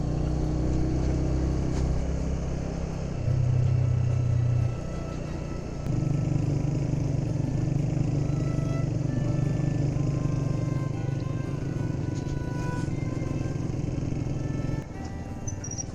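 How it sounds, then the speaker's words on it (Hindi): A vehicle engine drones steadily while driving fast on a mountain road near Kohat, Pakistan, a continuous loud hum that shifts pitch as gears change, with rattling underneath and no talk. "लाला की ड्राइविंग टॉप गियर में जाती है।"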